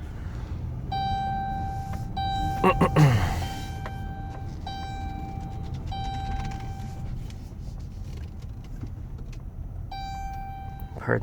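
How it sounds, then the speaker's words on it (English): A car's seatbelt warning chime repeats in regular bursts of steady beeps, clear over the idling cabin near a Petro Canada car wash in Guelph, Ontario, with a brief rustle and a voice in between. "Pardon the beeping, I don't have my seatbelt on."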